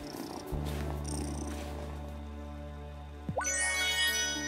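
A cat purrs steadily in the video game Wylde Flowers, a low hum throughout, with soft tinkling chime tones layered over it toward the end.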